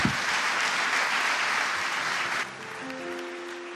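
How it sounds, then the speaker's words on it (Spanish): A church congregation claps loudly and steadily, then the applause drops away as sustained musical tones take over. "Si puedes darle un aplauso mejor a Él,"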